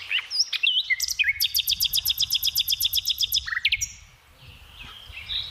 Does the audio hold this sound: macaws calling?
yes